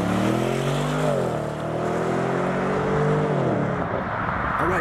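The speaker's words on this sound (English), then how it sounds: "start your engine" A 2016 BMW 750i xDrive sedan engine starts and settles, a close, loud mechanical hum whose pitch rises, dips and shifts steadily.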